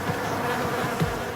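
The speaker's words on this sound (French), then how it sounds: "Jamie sélectionne ensuite une candidate parmi ses abeilles prêtées par l'apiculteur," Honeybees lent by a beekeeper buzz steadily and close up on a rooftop, a continuous insect drone with a few louder swells as individual bees pass near.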